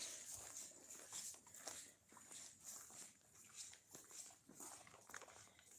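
A dog whimpers excitedly on a mountain walk, its thin, high whines coming in repeated bursts close by over rustling footsteps and outdoor noise.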